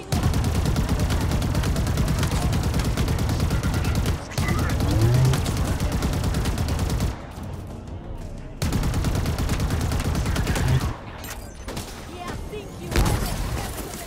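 Rapid, continuous gunfire from the video game Halo Infinite, dense automatic bursts with brief pauses and a few booms, loud and close throughout.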